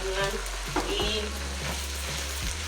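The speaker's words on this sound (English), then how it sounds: "we are going to add the beef mince in here" Beef mince frying in a pan while being stirred, a steady close sizzle with scraping stir sounds, and a voice speaks briefly.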